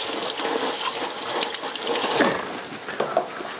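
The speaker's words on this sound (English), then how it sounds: "Once those mushrooms are soft, we're going to add some wine" Wine splashes steadily into a hot pan of softened mushrooms and garlic, a continuous sizzling pour that runs for a few seconds and tapers off near the end.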